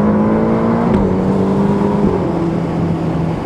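A Ferrari Roma's 620-horsepower engine revs and pulls hard, its tone climbing and then shifting as gears change, loud and close for a few seconds with no speech over it.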